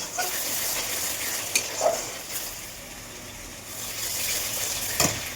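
Tomato and ground spice paste being stir-fried for a Bengali fish curry, giving a steady soft sizzle with occasional scrapes and clinks of a utensil in the pan.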